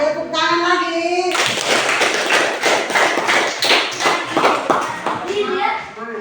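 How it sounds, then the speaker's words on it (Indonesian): Group of children clapping hands in a classroom lesson, a dense burst of rapid claps lasting several seconds, loud and close, with children's voices before and after. "Tepuk tangan lagi."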